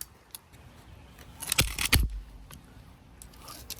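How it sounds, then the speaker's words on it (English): A climbing ascender's wheel half spins and then locks back up on the rope, giving a few sharp metallic clicks and rattles near the middle, close and fairly loud against a quiet background. "it's the wheel half spinning and then locking back up."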